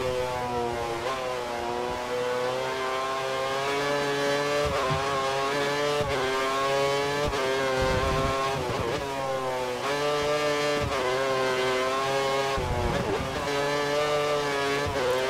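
A Formula 1 car engine in the F1 2013 racing game at Suzuka screams continuously, its pitch rising and falling with gear changes, and a quieter voice speaks over it.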